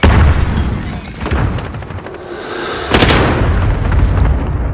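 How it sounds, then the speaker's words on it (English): In Call of Duty: Modern Warfare, a cluster strike sets off a string of heavy, close booms, with a second loud burst of blasts and rumbling debris following a moment later. "Allied cluster strike inbound."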